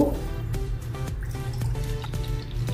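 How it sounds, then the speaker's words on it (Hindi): Water is poured into rice in a pot while making veg biryani, a soft close liquid splash and dribble with small drips over a low steady hum. "3 कटोरी हमने इसमें पानी डाल दिया"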